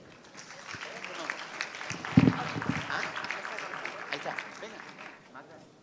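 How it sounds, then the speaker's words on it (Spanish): An audience applauds at a real estate congress panel, a broad wash of clapping from a sizeable crowd that swells and then tapers, mixed with voices speaking over it. "Un fuerte aplauso, por favor."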